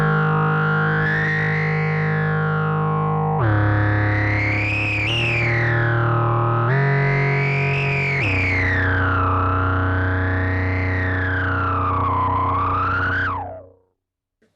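Synthesizer played through an overdrive pedal gives a thick, buzzing distorted lead with sliding, swooping pitch bends over a steady low drone, loud and continuous before it cuts off.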